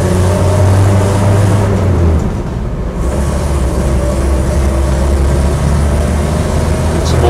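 Land Rover Series III 88 hardtop on the move, with a loud, steady low engine drone and road rumble filling the cabin and a brief dip in the middle; no talk.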